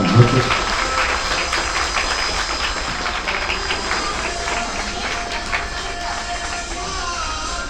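Loud, sustained applause at a gym celebration for a student who won an MMA gold medal, a continuous wash of clapping with voices underneath.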